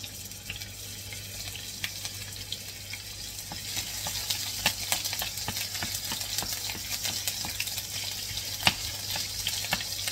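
Garlic fries in a hot pan as the first step before scallops go in, giving a continuous close crackling sizzle with dense small pops, steady throughout and with no voices.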